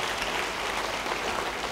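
A church congregation at a worship service gives a short round of applause, dense clapping from many hands heard alone and evenly throughout.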